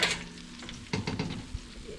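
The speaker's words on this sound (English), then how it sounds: "It's time to check on the jalapeno poppers. Listen to this sizzle." A quiet, crackling sizzle of jalapeno poppers fresh from the oven, with faint pops and light spatter, close by and without talk.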